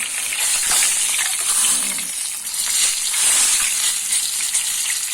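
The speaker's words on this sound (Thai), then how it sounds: "กระทะมันเล็กปามตัวใหญ่ ไม่เป็นไรทอดทีละครึ่ง" Grouper fish frying in oil in a small pan gives a continuous, fairly loud sizzling hiss with bubbling crackle throughout, and no talk over it.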